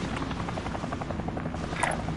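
A helicopter in a battle royale video game, its rotor chop pulsing rapidly and evenly at moderate distance, fairly quiet and alone.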